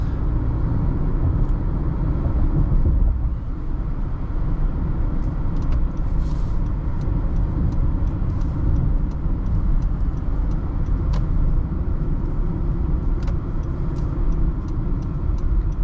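Cabin sound of a 2023 Honda CR-V on a test drive: a constant low road-and-engine rumble throughout, with faint light ticks and clicks over it and no talking.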